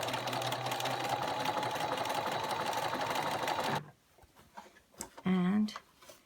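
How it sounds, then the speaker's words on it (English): Sewing machine running steadily through an automatic buttonhole stitch, a continuous close mechanical whir that stops abruptly partway, followed by quieter handling noises and a brief voice. "my machine has an automatic feature, so it'll do the buttonhole"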